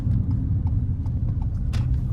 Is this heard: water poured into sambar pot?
no